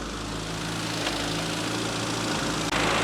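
The engine of a 1965 Mini Cooper runs loud and close with a steady droning hum and a rough mechanical rattle. The throttle and clutch are worked on and off, and a brief dip comes near the end.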